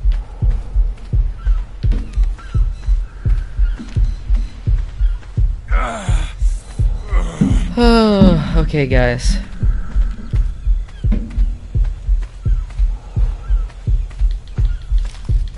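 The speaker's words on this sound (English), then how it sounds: "You hear that heartbeat?" Steady, loud thumping heartbeat in a survival video game, a regular double pulse repeating throughout, briefly overlaid by someone talking and a cluster of bird-like honking calls in the middle.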